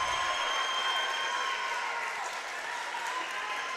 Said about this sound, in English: Always a loud crowd, hard to play in, especially for high school athletes as well